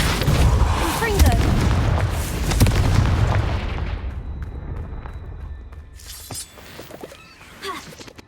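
Confringo spell explosions in Hogwarts Legacy, with several heavy booming blasts and crackling debris that roll on loudly for a few seconds, then die away before another burst near the end, with a voice briefly over the din.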